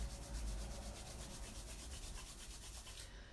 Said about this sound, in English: And rubbing the hands together again.